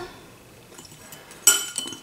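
A spoon clinks against glass verrines while speculoos powder is spread inside them, one sharp bright clink after a quiet stretch, followed by a few lighter taps.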